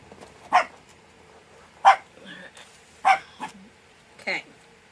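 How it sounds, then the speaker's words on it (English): A dog barks indoors in a series of four or five sharp, fairly loud barks spaced about a second apart, with brief whimpers between them in an otherwise quiet room. "sorry about the barking"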